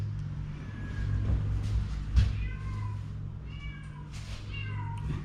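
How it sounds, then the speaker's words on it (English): A cat meows repeatedly inside a museum, several drawn-out mewing calls over a low steady hum, fairly close with no talk. "The kitty cat's driving me crazy."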